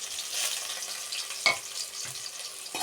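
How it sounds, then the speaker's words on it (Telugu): Sliced onions deep frying in hot oil with cumin in a pan, with peanuts going in. A steady soft sizzle hisses throughout, with a brief sharper crackle partway through and no voices. "అవి బాగా డీప్ ఫ్రై అవ్వాలి. తర్వాత అందులోనే కొన్ని పల్లీలు వేయాలి. ఇవి బాగా ఫ్రై అవ్వాలి"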